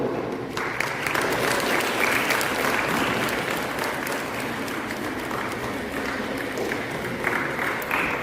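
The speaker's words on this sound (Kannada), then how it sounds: "ಚಪ್ಪಾಳೆಯೊಂದಿಗೆ ಪ್ರೋತ್ಸಾಹ." Sustained applause from a crowd at a college prize-giving event, dense and even clapping that continues loudly throughout without pause.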